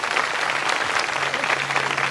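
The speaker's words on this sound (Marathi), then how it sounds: "आई वडिलांसाठी एकदा जोरात टाळ्या वाजवा सगळे." An audience claps together for their parents at a spiritual satsang gathering, a dense steady wash of applause filling the room for a couple of seconds.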